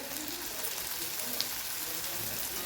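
Shallots, ginger and garlic sauté in hot oil for a potato curry, a dense, even sizzle holding steady and close throughout without pause.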